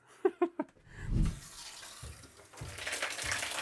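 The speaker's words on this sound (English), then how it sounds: "Now we got water." A few sharp pipe knocks, then water gushes from a tap in a 1970s bathroom under renovation once the mains are turned on, a steady running rush that builds toward the end.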